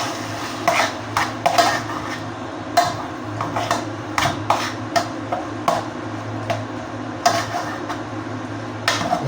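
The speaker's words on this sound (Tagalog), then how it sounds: "At haluin po natin." Chicken sisig being stirred in a pan, with a utensil clinking and scraping against the metal in a steady run of sharp, close taps over a low kitchen hum.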